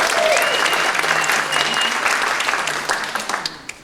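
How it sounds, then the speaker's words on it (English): Audience applause at the Armijo High School Hall of Fame 2023 ceremony: full, sustained clapping that thins out and dies away into scattered claps near the end. "give yourselves a big round of applause as well"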